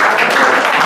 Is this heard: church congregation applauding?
yes